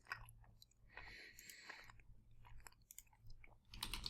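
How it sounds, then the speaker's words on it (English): Someone chews a snack close to the microphone, with soft wet crunches and bites coming in irregular bursts over a low background hum. "Sorry if you can hear my chewing,"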